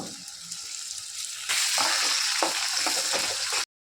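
Chopped onion, garlic and chili fry in a pan for egg chutney, then chopped tomato goes in and the hiss jumps to a louder, sputtering sizzle. The close frying noise carries on before cutting off abruptly, with no speech.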